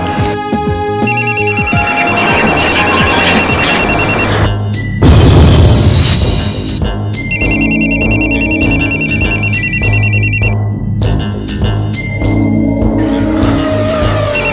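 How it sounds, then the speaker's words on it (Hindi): A phone ringtone plays in a Pakistani TV drama scene, a repeating bright electronic melody over music and background sound, loud and continuous with short breaks between rings. "बीच में फोन आ गया"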